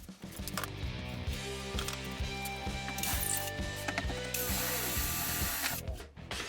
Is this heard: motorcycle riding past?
no